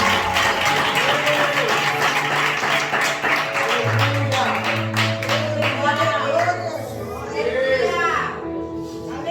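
A church congregation at a vigil clapping hands in praise, brisk rhythmic claps that are loud and steady at first and then thin out, mixed with voices, chatter and a sustained low tone.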